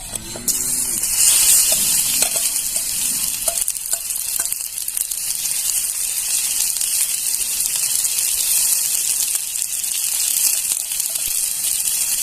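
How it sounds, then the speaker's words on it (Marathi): Okra frying in hot oil for besan bhindi gives a steady, loud sizzle that runs throughout. A few scraping stirs come early, and there is no talking. "आता त्याच्यात आपल्याला ही भेंडी घालून घ्यायची आहे"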